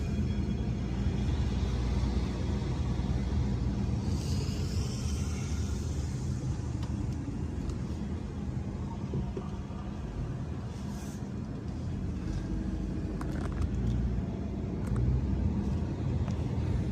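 Private water trucks drive past during Los Angeles wildfires, making a steady low engine rumble with broadband road noise that holds at moderate distance throughout, with no voices.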